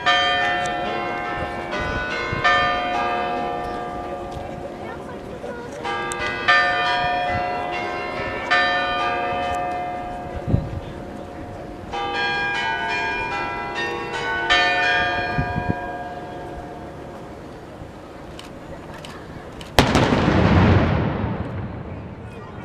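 A single loud noon cannon shot booms at St. Petersburg near the end, following long stretches of ringing church bells and crowd murmur, its blast decaying over a couple of seconds.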